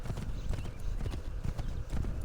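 Horse hooves clip-clop steadily in a quick rhythm in Assassin's Creed III, close and loud, carrying alone over a soft background.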